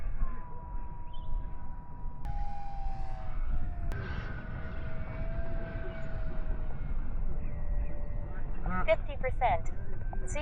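Model airplane flying at Fritz Field, its motor a faint, thin, shifting whine heard at a distance over steady outdoor background noise, with brief talk near the end.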